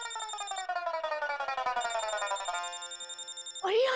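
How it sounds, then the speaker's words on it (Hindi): An electronic phone ringtone plays a repeating melodic pattern, loud and close, cutting off abruptly near the end as a voice begins. "रोशन, हो सकता है मेरे पापा का फोन हो."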